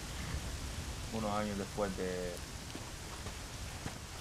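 Steady soft rain hiss in the video game Red Dead Redemption, a faint continuous wash with a brief spoken voice over it partway through.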